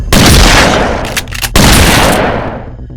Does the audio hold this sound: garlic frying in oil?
no